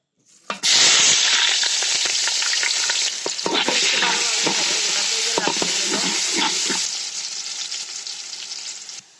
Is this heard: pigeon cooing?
no